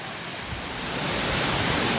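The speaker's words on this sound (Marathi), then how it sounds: "समोरच पाहताय एक सुंदर असा धबधबा चांदेराई धबधबा" The Chanderai waterfall, spilling past a concrete wall, pours with a steady broadband roar that swells slightly and then holds, close and continuous with no voices.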